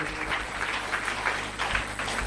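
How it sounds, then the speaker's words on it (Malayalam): A church congregation clapping in thanks to the Lord during a sermon, continuous close applause with a rhythmic pulse throughout. "ഒന്ന് കൈയടിച്ച് കർത്താവിന് നന്ദി പറഞ്ഞ്"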